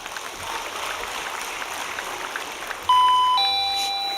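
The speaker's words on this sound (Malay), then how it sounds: "Tutuplah loceng tu." An electronic bell or chime sounds abruptly partway through, a sustained ringing tone over a murmuring background hum.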